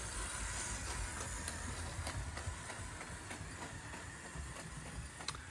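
A small toy LEGO train runs along its track around a Winter Village layout with a soft, steady clicking rattle and faint mechanical hum, fairly quiet and close.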